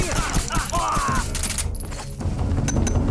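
Shots ring out in the stealth video game Metal Gear Solid 3 as a pistol and an AK rifle fire in sharp bursts over music and game effects, with a few sudden cracks scattered through.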